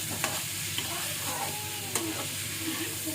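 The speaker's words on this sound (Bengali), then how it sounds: "আর এখন দিয়ে দেবো সেদ্ধ করে রাখা আগে থেকে রাজমা। ভালো মতন এটাকে এখন কষিয়ে নেওয়া।" Boiled rajma is stirred and fried in a hot pan with ginger and chillies, a steady close sizzle broken by occasional scrapes and clinks of the spoon against the pan.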